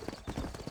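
Horse hooves clip-clop in a steady, close rhythm in Red Dead Redemption, a Western video game, with several distinct footfalls over a brief stretch and faint game ambience behind.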